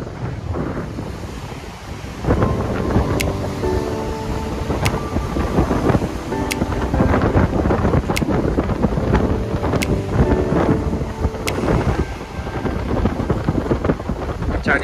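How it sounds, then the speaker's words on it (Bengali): Strong wind buffets the microphone on the open shore at Dhanushkodi beach near Rameswaram, with surf from the sea rolling and crashing steadily beneath a loud, continuous roar. "চারিদিকে সমুদ্র আর খুব জোরে হাওয়া দিচ্ছে"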